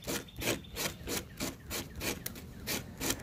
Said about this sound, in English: I've roughed up the surface of the dash using some 120 grit sandpaper